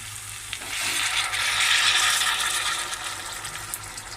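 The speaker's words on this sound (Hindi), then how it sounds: "मग में गर्म पानी लिया, थोड़ा सा पानी डालेंगे," Hot water poured into a pan of frying chicken bursts into a loud, hissing sizzle that swells and then settles, close up with no talk.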